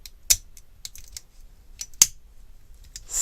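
A Xiaomi multitool's pliers are opened and spring back, giving a few sharp, close metallic clicks and snaps separated by quiet gaps.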